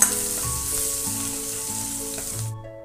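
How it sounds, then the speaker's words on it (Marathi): Finely chopped garlic sizzles in hot tempering oil with mustard seeds, cumin and asafoetida, a loud close hiss with faint stirring, fading out at the end. "लसूण चांगला परतून घ्यायचा आहे"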